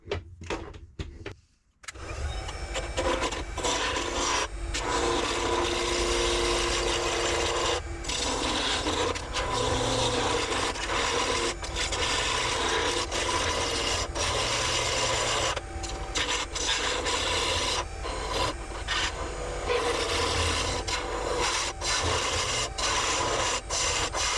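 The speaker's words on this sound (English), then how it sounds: "The gouge will grab the resin and create huge chips." Lathe gouge cutting a spinning resin pen blank, giving a loud, steady rasping scrape that runs almost without a break after a brief dip near the start.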